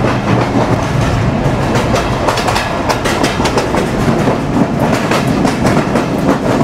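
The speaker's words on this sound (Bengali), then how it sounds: "খেলে ধুলে আমাদের ট্রেন চলছে।" A Betna Express passenger train with old vacuum brakes runs on the Khulna to Benapole line, giving a loud, continuous rumble with rapid clickety-clack wheel beats heard from on board.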